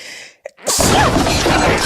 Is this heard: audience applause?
no